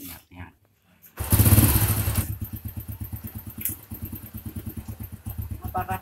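A motorcycle engine cranks with a brief whir and starts with a loud burst. It then settles into a steady, rhythmic idle close by, and a voice speaks briefly.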